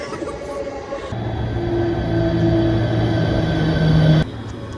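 A tram rumbles along with steady low hum and rising drone, fairly loud and close, with a sustained tone as it moves; no talking.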